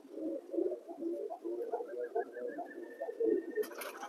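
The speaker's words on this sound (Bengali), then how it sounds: "ওরা উড়ে গেল, এরা উড়ে গেছে দেখুন আকাশে" Indian lotan pigeons coo in soft, repeated rolling phrases at close range, a quiet, continuous murmur that ends in a brief burst of broadband noise.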